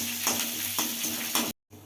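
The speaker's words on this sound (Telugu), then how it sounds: "ఇవి ఇప్పుడు కలుపుకోవాలి ఇలా వేయించుకోవాలి" Close sizzling of chillies frying in a hot pan, with a few scraping stirs of a spoon breaking the steady crackle.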